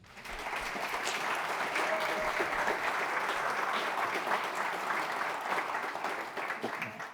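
A room full of people gives a sustained round of applause, even and dense clapping that starts abruptly and holds steady for several seconds before tapering slightly.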